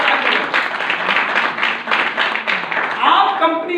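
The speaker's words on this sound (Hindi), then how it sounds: "एक बार ब्रजेश के लिए जोरदार ताली बजाएं।" Loud, sustained applause from a seminar audience clapping for a participant named Brajesh at a business leadership event in Lucknow, a dense continuous roar of hands with slight swells, ending as it starts to thin.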